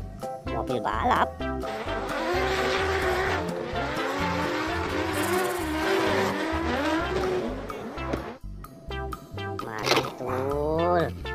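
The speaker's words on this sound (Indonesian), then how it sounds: "Mobil balap." A toy race car gives off a busy electronic racing sound of revving engine tones and squealing, toy-like siren and melodic effects, loud and continuous with a short break near the end.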